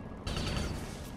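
Gunfire in the strategy game XCOM 2: one sharp burst erupts after a quiet start and rings out with a fading tail, faint overall.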